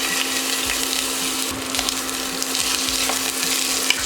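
Onion frying in about three tablespoons of hot oil in a pan for Jamaican bully beef, a continuous dense sizzle with a few stirring knocks and a faint steady hum underneath, close with no talking.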